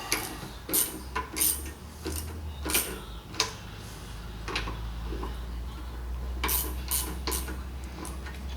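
A torque wrench tightening connecting rod bolts on a VW 1600 air-cooled engine, a close run of sharp metallic clicks and ratcheting taps in irregular bursts over a low steady hum.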